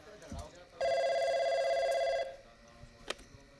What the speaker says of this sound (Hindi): ओहो, तेरे स्पेशल का फोन आ गया।